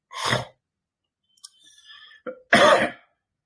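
Two loud, harsh coughs separated by a pause, with faint breathing and a small throat sound in between, close to the listener.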